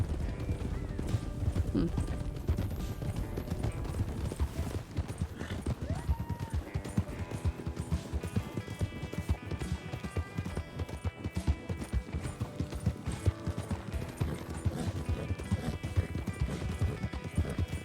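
Rhythmic horse hoof clip-clops trot along continuously in the game RedM under busy game sound and music, with people talking over it throughout.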